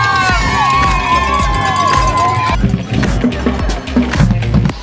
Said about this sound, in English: The crowd is starting to get larger